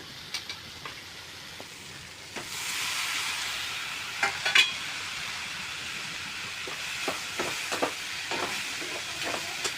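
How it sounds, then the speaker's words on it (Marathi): Chillies and tomatoes sauté in oil, starting as a quiet hiss that swells into a steady sizzle, broken by sharp clicks and pops of spattering and a few scrapes. "आता तेलामध्ये ह्याला परतून घ्यायचं आता यामध्ये टमाटर घालून घ्यायचं"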